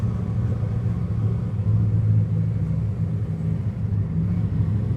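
A Honda Shadow 750 Aero motorcycle engine idles and revs at close range, a steady low rumble that swells briefly and settles, with no talking.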